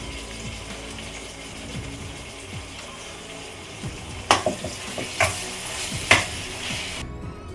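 Beetroot upma being stirred in a pan over a low sizzle, with a few sharp scraping clicks of the spoon against the metal standing out in the second half.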